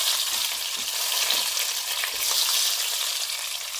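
Onions sizzling in hot oil alongside biryani leaf and stone flower for a village chicken curry, a steady close hissing fry with faint stirring texture and no talking.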